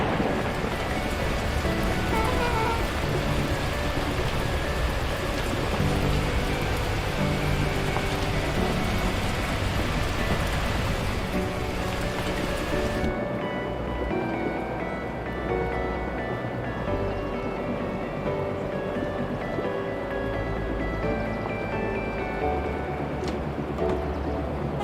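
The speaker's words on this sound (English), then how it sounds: "At that moment, the heavens opened up, unleashing torrential rain." Torrential rain pours down in the video game Beacon Pines, a steady loud hiss that holds for the first half, then turns duller and heavier with low rumbling underneath.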